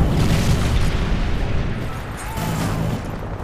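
A Predator missile strike explodes in Call of Duty: Modern Warfare 3 multiplayer, a loud, deep, sustained boom and rumble that fades slightly over a few seconds, with distant game noise.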